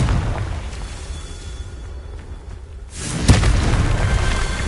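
A Confringo blasting spell explodes in Hogwarts Legacy, a sharp loud blast about two thirds of the way through, rising out of low background rumble and leaving a sustained roar behind it.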